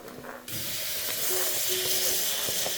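Half an onion with a pinch of salt hits a hot frying pan, setting off a steady, fairly quiet hiss and sizzle that keeps going without letting up.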